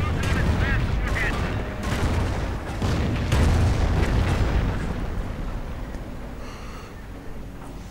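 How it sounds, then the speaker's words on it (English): Artillery shells pound German Panther tanks in a World War II strategy game battle: a dense, rumbling barrage of overlapping booms and blasts, some near and some farther off, with a commentator talking over the fighting. "Panthers getting bombarded."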